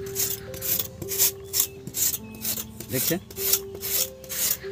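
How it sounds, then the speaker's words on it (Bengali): Potatoes are grated on a hand grater for aloo pakoda, giving a steady run of rough rasping strokes in an even rhythm, close by, with faint kitchen hum and a tone beneath. "চেঁচে নিচ্ছি।"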